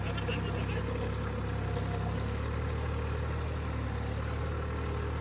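A tractor engine runs with a steady, heavy low rumble while stuck in a rain-soaked field, continuous and close throughout.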